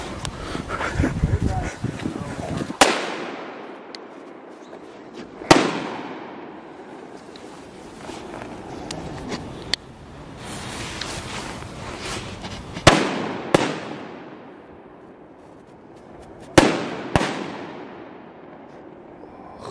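Chainsaw Lobsters firecrackers exploding outdoors: several loud, sharp bangs spaced a few seconds apart, each followed by a fading crackle and hiss, with people talking in the background between blasts.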